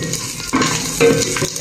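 Meat sautés in a pan for a Filipino patola and miswa dish, with a steady sizzle broken by two or three quick stirring scrapes up close.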